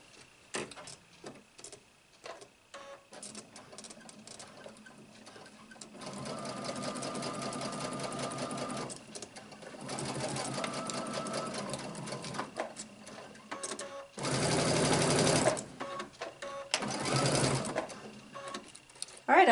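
Sewing machine basting low-stretch pants fabric, running in several steady whirring bursts of a few seconds each, separated by clicks and handling, with a person talking at times.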